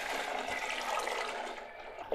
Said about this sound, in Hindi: साथ ही इसमें शामिल कर देंगे 1 लीटर पानी।